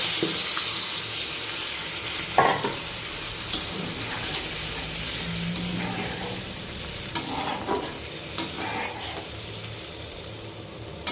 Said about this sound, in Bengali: এর মধ্যে জল ঢেলে দেব অল্প পরিমাণ একটু জল ঢেলে দেবো